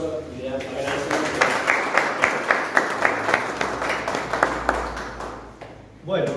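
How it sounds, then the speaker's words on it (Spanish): Audience applause welcoming a speaker at a talk on drugs in Córdoba, rhythmic steady clapping with distinct claps over a murmur, tapering off as a voice speaks near the end. "Aquí le damos un aplauso y le agradecemos."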